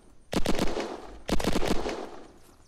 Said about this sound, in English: Yeah, it's a machine gun.